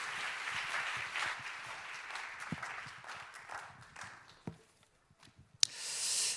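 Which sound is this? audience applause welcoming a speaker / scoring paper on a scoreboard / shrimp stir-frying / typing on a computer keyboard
audience applause welcoming a speaker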